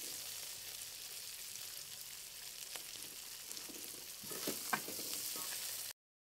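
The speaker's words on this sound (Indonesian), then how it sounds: "Aduk sampai merata dan bumbunya menyatu atau menyerap" Wet anchovies stir-fried with spices, petai and shallots crackle and sizzle in a pan, with the scrape of a spatula stirring them, steady throughout and a bit busier near the end before the sound cuts off abruptly.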